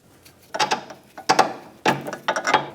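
A ratchet clicks in short bursts while loosening the nut on an Infiniti G35 front sway bar link, four close, crisp spurts of rapid metallic ticking separated by brief pauses.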